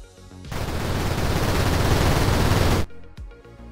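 Rapid gunfire effects from a GDevelop video game, each shot varied in pitch, form a dense, loud burst lasting a couple of seconds, with no talk over it.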